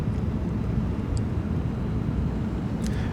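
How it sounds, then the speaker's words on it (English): A CRJ regional jet's engines in Flight Simulator X give off a steady low rumbling roar with a continuous broadband hum, loud and unchanging throughout, with a couple of faint high clicks but no talking. "Engine sounds are really, really sweet."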